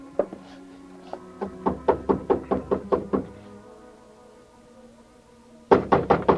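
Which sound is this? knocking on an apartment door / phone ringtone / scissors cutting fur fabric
knocking on an apartment door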